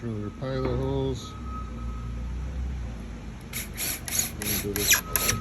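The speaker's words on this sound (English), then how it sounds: "Drill your pilot holes." Power drill boring pilot holes into a drawer front, heard as several short, sharp whirring bursts close by in the second half, after a stretch of talking.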